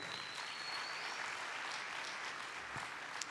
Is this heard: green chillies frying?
no